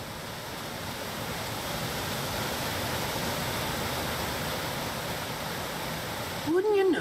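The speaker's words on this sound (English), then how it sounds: "The legend says to look behind the waterfall." Broad, steady rushing of a waterfall in the game Final Fantasy XV Pocket Edition, a constant dense roar filling the scene, with a short voice cutting in at the very end.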